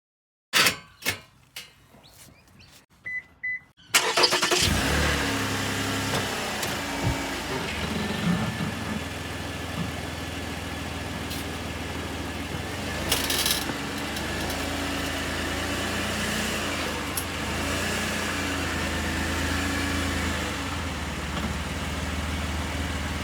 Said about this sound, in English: let's drive the car up on the ramps and dump the oil